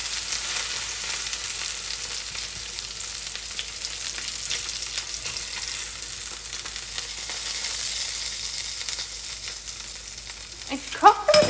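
Chicken fried steaks frying in a pan after being flipped, a steady close hiss and crackle of hot oil holding throughout, with a few louder clanks and bubbling bursts at the very end.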